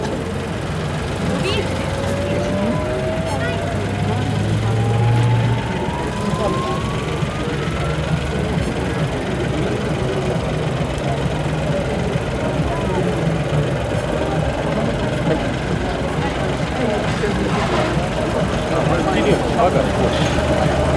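Low, steady engine rumble of airport baggage tractors idling and moving beside aircraft, with voices and crowd noise mixed throughout and a rising tonal whine passing over.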